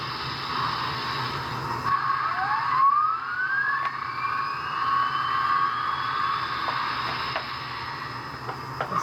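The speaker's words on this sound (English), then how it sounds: "The dynamo spinning up there, you hear that as the headlight comes on" The dynamo of a Broadway Limited HO-scale USRA Light Mikado locomotive in CN livery, with Paragon3 sound, spins up as a steadily rising whine that levels into a sustained tone over a low mechanical hum.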